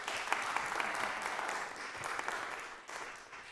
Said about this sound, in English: please continue to clap enthusiastically